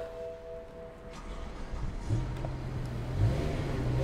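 A V10 car engine turns over and catches, then a few fairly faint revs rise and fall over a low, steady idle.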